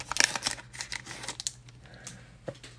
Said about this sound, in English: Oh, I won't cut them. I'm a surgeon with those scissors.